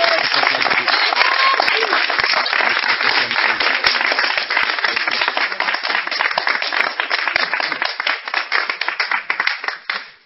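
Congregation in a church deliverance service applauding for Jesus Christ, a dense and steady crowd of clapping hands that fades out at the end, with voices faintly mixed in.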